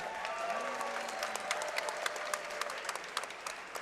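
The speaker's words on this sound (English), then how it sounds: "how about a round of applause for these two fighters?" Audience applause fills an arena at a fighting championship after a bout between two fighters, steady crowd clapping with scattered sharper claps, moderately loud and continuous throughout.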